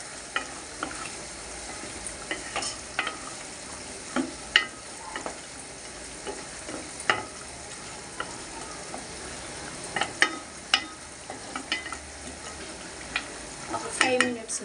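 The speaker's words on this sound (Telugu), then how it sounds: "కసూరి మేతి వేస్తున్నాను కొంచెం లాస్ట్గా. ఒకసారి కలుపుకుందాం." Chicken curry with kasuri methi is stirred in a pan, a spoon scraping and clinking against the metal in irregular strokes over a low, steady sizzle, close and fairly quiet.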